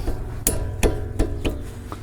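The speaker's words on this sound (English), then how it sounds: "Tap the hammer onto the wrench." A small hammer taps a wrench to loosen the brake caliper bolts on an Acura MDX or Honda Odyssey front brake, giving five sharp, evenly spaced metallic strikes close by with no talking.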